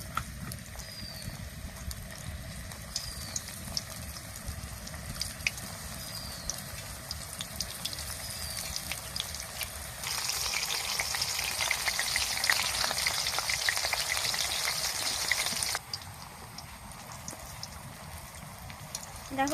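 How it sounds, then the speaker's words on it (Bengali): Apple pieces frying in hot oil in a home kitchen, with a steady close crackling sizzle that grows denser and louder for several seconds in the middle before settling back. No one speaks. "তেল গরম হয়ে গেছে, এবার এক এক করে আমি ভেজে নেব"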